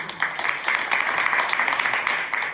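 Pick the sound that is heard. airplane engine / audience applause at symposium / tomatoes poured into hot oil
audience applause at symposium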